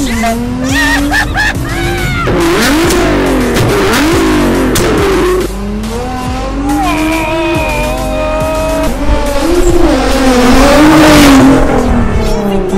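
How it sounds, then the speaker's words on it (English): A 600-horsepower Nissan R35 GTR with a straight-pipe exhaust roars through repeated loud revs and shifts, pitch climbing and dropping, close and raw in the rain, with voices talking over it. "There she is, the R35 GTR done by Mean Wraps and pushing out over 600 horsepower"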